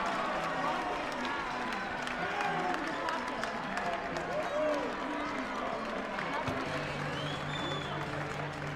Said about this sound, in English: And the crowd on their feet inside Millett Hall.